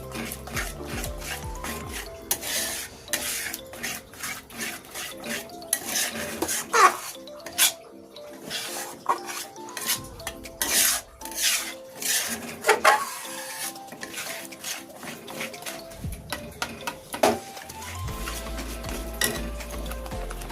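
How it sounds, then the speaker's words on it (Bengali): Milk and powdered milk are stirred into grated carrots in a pot for a sweet, with repeated rhythmic scraping and clinking of a spoon against metal, close and without talk. "এবারে দুধটা গাজরের সাথে খুব ভালো করে মিশিয়ে নেব"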